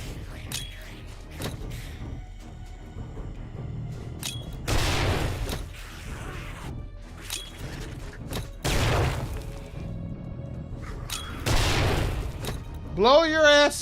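Grenade and dynamite blasts in 7 Days to Die: three loud, deep explosions a few seconds apart, with smaller bangs and clatter between them and a rising whine at the end.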